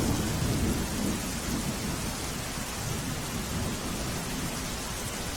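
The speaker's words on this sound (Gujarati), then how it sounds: "સુરત શહેરમાં ફરી એક વખત ધોધમાર વરસાદની શરૂઆત થઈ છે" Heavy monsoon-style downpour over Surat city, a steady dense roar of rain with thunder rumbling underneath, continuous and fairly even throughout with no voices.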